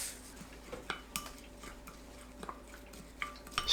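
Chili powder, soy sauce, oligosaccharide syrup, sesame oil, water, minced garlic and sesame seeds mixed into a seasoning sauce with a spoon, giving faint scattered clinks and soft scraping against the bowl.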